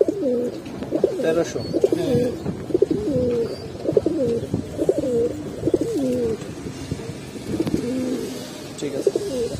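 Giribaz pigeons coo repeatedly at close range, a steady run of soft, rolling, throaty calls, with a voice briefly speaking among them.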